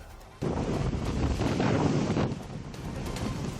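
Strong typhoon wind gusts roar loudly and continuously against the microphone in Northern Luzon, with a dense rushing wash of heavy rain.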